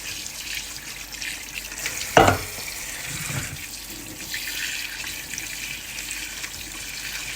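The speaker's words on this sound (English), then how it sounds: "put them back in the pot, and cover them with cold water" Cold water runs from a tap into a pot of beef bones for pho, with a steady hiss of flowing water and a brief louder splash and clatter early on.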